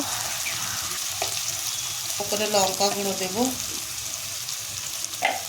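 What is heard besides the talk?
ginger garlic chili paste frying with spices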